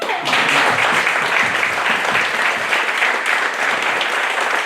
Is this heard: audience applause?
yes